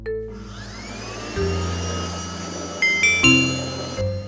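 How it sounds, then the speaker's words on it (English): A household vacuum cleaner starts up and runs with a steady droning hum, alone and close. A few chiming tones rise over it before it cuts off. "It's a vacuum cleaner."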